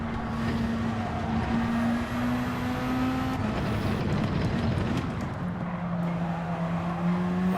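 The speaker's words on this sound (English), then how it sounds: "Especially when you're going around corners and all you're hearing is tyre squeal." Racing-game car cornering in Gran Turismo 7, engine drone with a sustained tyre squeal that shifts pitch through the corners, steady and loud throughout with no talking.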